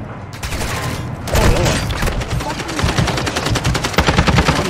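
Call of Duty gunfire rattles loud and close throughout, with continuous automatic bursts and sharp single cracks layered over one another. A voice briefly mixes in.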